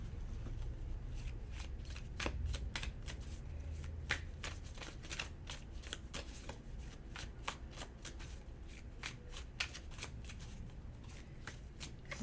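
Tarot cards being shuffled by hand, a rapid series of crisp riffling snaps and flicks in an irregular rhythm, close and fairly quiet, with no talk over it.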